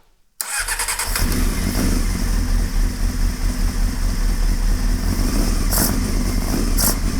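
A motorcycle engine is started with the starter button while still cold with the choke disconnected, catching quickly and settling into a loud, steady, close idle that runs throughout.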